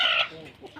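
A chicken at a country-breed poultry farm gives a brief, close cluck that fades into quieter throaty sounds.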